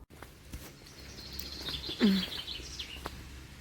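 Birds sing outdoors on a trip to fetch water, a faint steady high twittering with a few brief chirps and a louder call near the middle, no talk.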